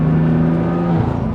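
A 1000HP BMW M3 drag car engine revs up close and loud, a steady low, throaty drone holding for about a second and a half with no voices over it.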